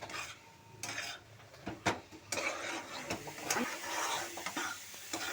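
Prawn cutlet mixture being stirred in a pan, with repeated metallic scrapes and clinks of a spoon against the pan and a faint sizzle underneath, close and irregular.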